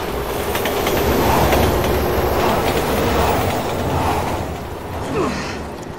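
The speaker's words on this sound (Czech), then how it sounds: "To je vlak. Train's coming." A train rolls steadily past in the video game Resident Evil 6, with continuous loud rumbling and rattling of wheels on track and a brief squeal of metal near the end.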